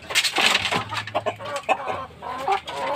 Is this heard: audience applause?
no